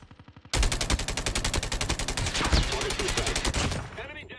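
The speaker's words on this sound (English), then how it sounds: "I just pre-fired a gun" Rapid bursts of automatic gunfire from a first-person shooter video game, a dense rattling fusillade of evenly spaced shots lasting several seconds after a few quieter taps, then tapering off.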